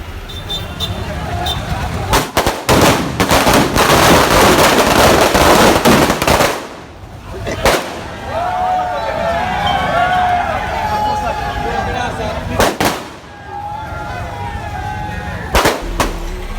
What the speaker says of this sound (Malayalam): UDFിൻ്റെ പ്രവർത്തകർ ഇവിടെ ഇട്ട് പടക്കം പൊട്ടിച്ചിട്ട്